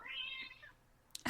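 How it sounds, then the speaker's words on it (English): A house cat gives a single clear meow, rising then trailing off, with a brief noisy rustle at the end. "I have a cat, 2 cats and a dog that are probably going to pipe up in the background."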